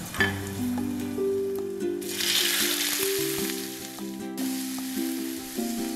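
Tomato sizzling and frying with pressed garlic and chili in a pan over high heat for pasta sauce, a steady loud crackle with stirring scrapes and a bright hiss surging midway, background music tones running throughout.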